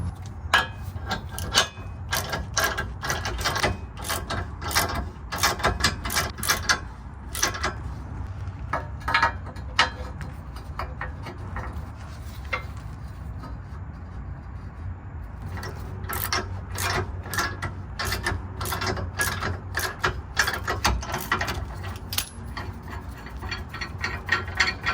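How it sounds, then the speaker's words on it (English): Torsion tool ratcheting a Tahoe torsion bar back during a 3/5 lowering drop, heard as steady, rapid clicking bursts close by that pause briefly midway, then resume. "we can put it back in reverse with the torsion tool."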